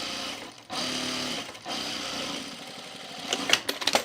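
A sewing machine stitches jean shorts in short runs, its steady motor whir starting and stopping close by, followed by a few light clicks and taps.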